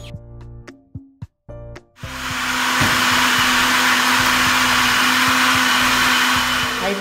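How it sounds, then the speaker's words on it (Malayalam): Boiled black grapes and sugar whir in a kitchen blender, starting after a couple of seconds of clinks and knocks, then a loud, steady motor roar that runs to the end without speech. "ഇനി നമുക്ക് ഇത് ബ്ലെൻഡറിലേക്ക് ഇട്ട് ജ്യൂസ് അടിച്ചെടുക്കാം."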